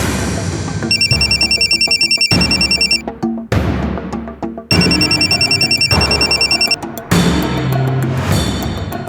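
A telephone rings on and on without being answered, bursts of a bright electronic ringtone repeating in regular rings with short pauses between them, loud and close over faint background sound.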